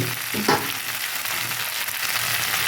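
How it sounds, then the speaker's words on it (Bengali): Hot milk pours into a pan of frying shukto vegetables cooked with poppy seed and mustard paste, a brief splash near the start giving way to a steady, close sizzle that holds throughout with no talk. "আমি দুধ এখানে গরম করে রেখেছিলাম দুধ দিয়ে দিলাম"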